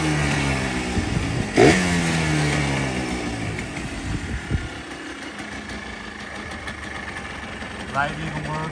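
1996 Yamaha Blaster ATV engine running with side cases off, a close two-stroke idle with a couple of brief revs, while a person talks over it.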